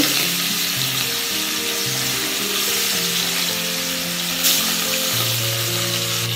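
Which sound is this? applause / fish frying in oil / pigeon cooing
fish frying in oil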